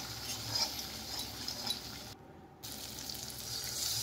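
Water from rinsing a spice bowl is poured into a pan of spices frying in oil with chilli and turmeric, giving a steady close hiss and bubbling sizzle that briefly drops away, then resumes.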